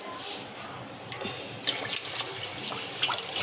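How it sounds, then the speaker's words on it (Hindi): Water is poured into a pot of khichdi, a splashing, trickling stream of liquid that runs for a few seconds, fairly close and soft with slight surges. "अब हम इसमें ज़्यादा पानी ऐड करेंगे।"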